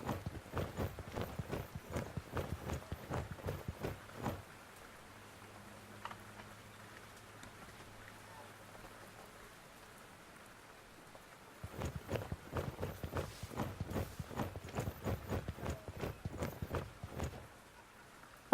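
Horses' hooves clip-clop on hard ground in a human city's stable area in The Dwarves video game, a brisk run of steps, then a quiet pause, then the hoofbeats resume just as steadily.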